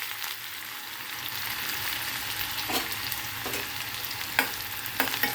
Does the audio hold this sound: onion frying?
yes